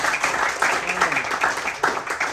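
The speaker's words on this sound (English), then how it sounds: "Give her a big applause" Brief applause for a student at a youth Buddhist discussion, a short burst of group clapping with a voice speaking over it.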